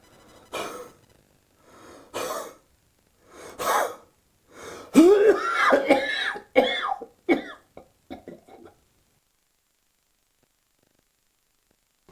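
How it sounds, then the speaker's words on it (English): A person performs a series of forceful huff coughs to bring up sputum, several sharp bursts in a rhythmic sequence, then heavier, rougher coughing that trails off into a few short catches before silence. "let's watch the full huff cough sequence one more time"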